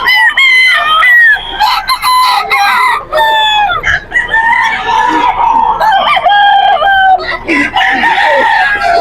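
Several gamecocks at a poultry gathering in Bocaue, Bulacan crow loudly and repeatedly close by, with overlapping calls and clucking and a few voices faintly in the background.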